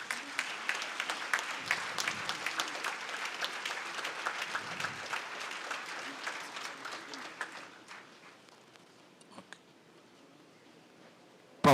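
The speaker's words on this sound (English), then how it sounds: "Please give a big applause" An audience at a live millennium awards ceremony gives a big round of applause, dense and lively at first, then thinning and fading out over several seconds into scattered claps and near silence.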